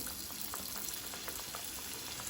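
Green pea samosas frying gently in oil over a medium flame, a steady soft sizzle with faint bubbling and occasional light crackles throughout, no talking.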